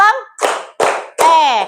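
Schoolchildren in a primary classroom clap together in a call-and-response clapping game, three loud group bursts of claps in steady rhythm, interleaved with a teacher's chanted voice that rises over the final burst.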